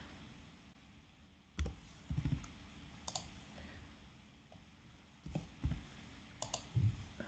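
Numbers being keyed into a computer app, with scattered quiet key clicks in small clusters separated by pauses, close but faint.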